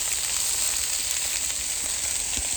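Pork sausages sizzle steadily on a Callow four-burner plancha, a dense, continuous hiss of frying fat with faint pops, close and alone with no voices.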